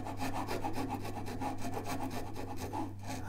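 Continuous rapid wooden rasping as a saw cuts the nut slot in a classical guitar neck, fast even back-and-forth strokes, close and steady over a low hum, with no talk.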